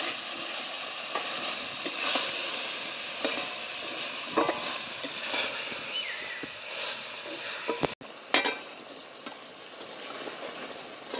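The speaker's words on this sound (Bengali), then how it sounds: "আলু পটল মশলা আমি একসাথে ভালো করে কষে নিয়েছি" Potatoes and pointed gourd with spices are stirred in a pan, with a soft ongoing sizzle broken by scraping strokes, a brief dropout and one louder clatter near the end.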